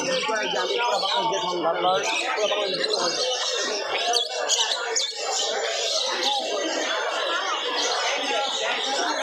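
Diamond doves call at a busy bird market in Mirpur-1, their coos blending into a dense chorus of chirping and squawking cage birds, with people talking nearby throughout.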